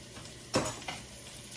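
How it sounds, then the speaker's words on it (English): Chopped carrots, celery and onion tumble into a hot pot with olive oil, a sharp burst of sizzling and clatter followed by a smaller second drop, then a quiet frying hiss. "We're going to add the carrots and the celery and"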